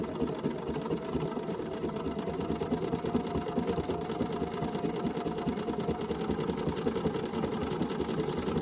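Sewing machine stitching a quilt at an even, unhurried pace, with a close, steady mechanical whirr and rapid rhythmic needle chatter running without a break.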